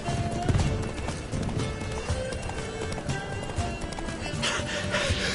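A horse's hooves clip-clop at a run in The Witcher 3, a steady, fairly close galloping rhythm with some speech beneath.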